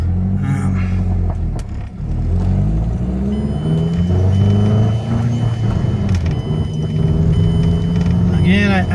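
Mazdaspeed6 engine running steadily while the car is driven, a continuous low rumble with rising and falling revs, close and loud, under someone talking.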